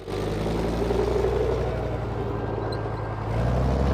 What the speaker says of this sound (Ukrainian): Двигун запускається так, як наче повітряна тривога.